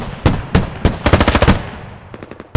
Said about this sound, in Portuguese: Eu pensei que o tiro ia certinho.